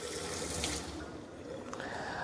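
Water runs steadily from a tap fitted with a pressure-boosting nozzle that gives a directed high-pressure jet, a continuous close hiss and splash with no voices.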